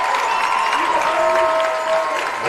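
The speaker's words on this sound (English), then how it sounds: "Listen to that crowd roar." A high school football crowd roars from the stands, a loud sustained wash of cheering and clapping with whistles and faint tones threaded through.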